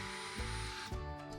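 A power drill bores a hole for a Roman blind bracket, its motor whining steadily at close range with two short surges in pitch partway through, no voices present.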